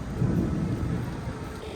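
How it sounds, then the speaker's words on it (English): Low, rolling thunder rumbles steadily, with a soft hiss of light rain over it and no voices, on a rural walking route in Galicia, Spain. "So I don't know if you can hear all the thunder and lightning right now"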